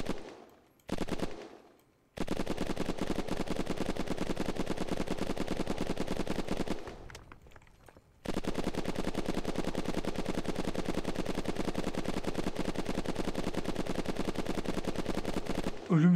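Sustained machine-gun fire in the survival game Unturned, long dense bursts of rapid rattling shots broken by two short pauses, loud and steady with no talking.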